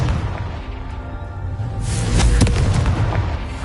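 Confringo blasting spell from a Harry Potter video game, a rumbling buildup that breaks into a loud crackling explosion with sharp bursts, close and full.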